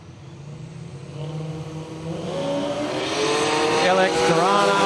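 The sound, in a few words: drag race cars, LX Torana against Datsun Bluebird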